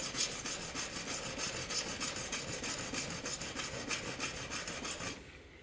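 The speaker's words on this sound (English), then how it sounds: "I'm scratching it pretty deep" A sharp point scrapes hard and deep across a sanded, painted tile in a fast, steady run of gritty rasping strokes, close and alone, before stopping abruptly near the end.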